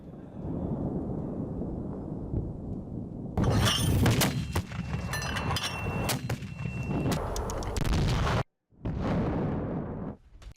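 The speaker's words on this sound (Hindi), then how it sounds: "रूसी काफिले पर यूक्रेनी सेना ने प्रहार किया है। FGM-148 जेवलिन ATGM से अटैक किया गया है।" An FGM-148 Javelin anti-tank missile strike on a Russian military convoy: a loud, rough roar of blast noise broken by sharp metallic cracks and bangs, cutting out briefly before resuming near the end.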